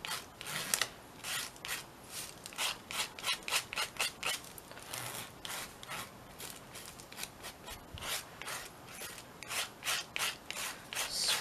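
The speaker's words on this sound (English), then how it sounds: "Scrape it off so it's not so thick" Gesso being scraped off a mixed media canvas page, a long series of rhythmic close rasping strokes, each a short dry scratch, repeated steadily with no talking.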